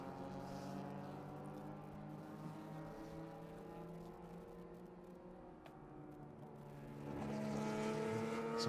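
Vintage race cars, among them a Datsun 510, roar around the Laguna Seca circuit, a steady blend of engines at a distance with a louder car swelling closer near the end.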